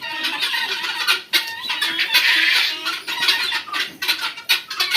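Laying hens on a China-breed poultry farm in Bakshiganj, Jamalpur, cluck and squawk loudly and close up in irregular overlapping bursts, with no talking.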